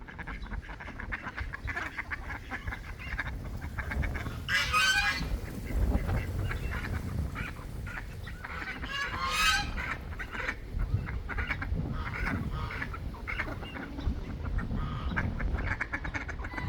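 A flock of ducks, three drakes and five hens, dabbles by a muddy puddle, giving scattered loud quacks in a few bursts over a constant soft outdoor background.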